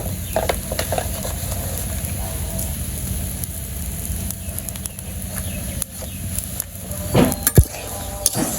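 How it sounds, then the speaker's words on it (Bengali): Eggplant and tomato seasoned with salt, turmeric and chili sauté in a pan in a village kitchen, giving a steady, close sizzle throughout with occasional scraping stir clicks toward the end. "তো এই যে আমি বেগুন আর টমেটোটা কষিয়ে নিতেছি।"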